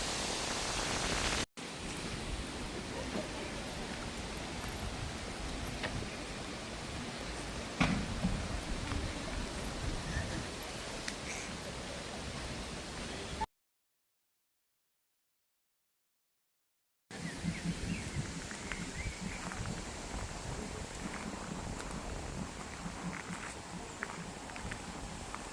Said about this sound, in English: Oh look, rain and wind again.